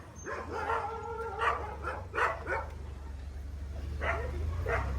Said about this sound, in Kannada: ನಾಯಿ ಬಂದ್ರು.